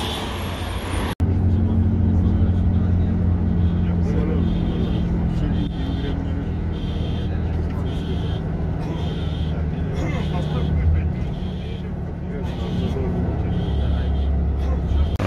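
Riding inside a Mitsubishi Zafira in Turkey: a steady road rumble and engine hum from within the car, with a brief sharp knock near the start, and people talking throughout.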